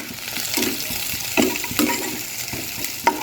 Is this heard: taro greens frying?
yes